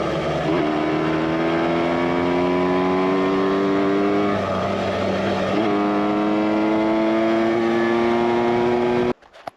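A Yamaha RT100 dirt bike engine pulls off-road through the Pennask area, its buzzing two-wheeler note climbing in pitch through repeated rev rises and gear changes, loud and close, before cutting off abruptly near the end.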